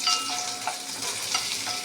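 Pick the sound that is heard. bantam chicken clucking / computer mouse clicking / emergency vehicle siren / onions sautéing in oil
onions sautéing in oil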